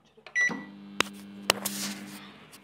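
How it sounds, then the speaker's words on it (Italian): A microwave oven cooking pasta with cream and ham, opening with a short beep sequence, then a door clunk, two sharp clicks and a steady low hum as it starts running. "rimettiamo nel microonde"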